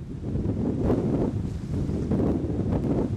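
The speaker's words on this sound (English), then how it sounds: "The wind rages through the night" Strong wind roars steadily over a boat lying at a sheltered anchorage behind a remote headland in southern Eritrea, a dense, continuous buffeting rush with gusty surges and faint water sounds beneath.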